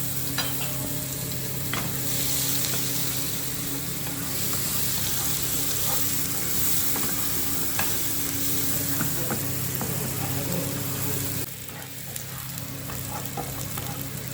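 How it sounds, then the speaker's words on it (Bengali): Onions sizzle steadily in hot oil in a pan for rupchanda fish do-piyaza, a loud continuous frying hiss with occasional stirring scrapes, briefly dropping in level near the end. "এই দিলাম, পেঁয়াজ দিয়ে দিলাম। এই পেঁয়াজটা আমি লাল করবো"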